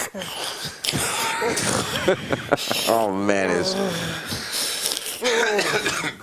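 A man imitates gurgling, wheezing breathing with his voice, a rasping, bubbling rattle in the middle of the clip, surrounded by casual talk and a short laugh.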